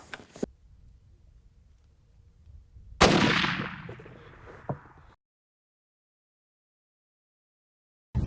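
A single .375 rifle shot fired while hunting in South Africa, a sharp loud crack with a decaying rumble, followed by a quieter thump and silence.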